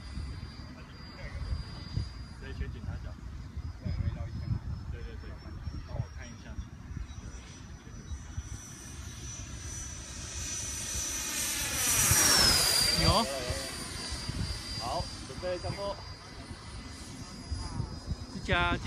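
An F18 radio-controlled model jet on its maiden flight whines steadily overhead, its pitch sweeping as it passes close and loud around the middle, with people talking over it throughout.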